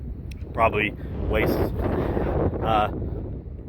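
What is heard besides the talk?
strong wind blowing on microphone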